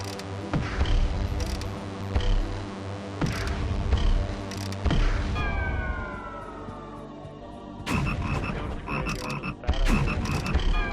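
Frogs croak in the game Forbidden Forest 3: loud, close calls come in regular pulses about every second and a half, with a brief gap and some warbling tones midway.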